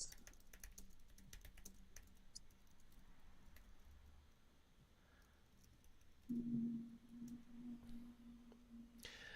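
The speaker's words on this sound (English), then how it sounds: "I'm gonna type it." Faint, quiet keyboard typing in a podcast studio, scattered soft key clicks over low room hum, with a brief louder tone partway through.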